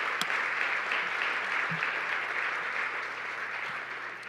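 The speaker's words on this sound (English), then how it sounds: "I'll give you another chance to applaud Assemblymember Josh Lowenthal" Sustained audience applause at a social media safety gala: steady clapping from a crowd that stays even and fairly full throughout.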